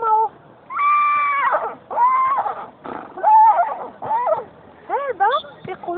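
A teacher imitates a horse's neigh with her voice for young children, producing several wavering, whinny-like vocal cries in separate bursts, each rising and falling in pitch, loud and close.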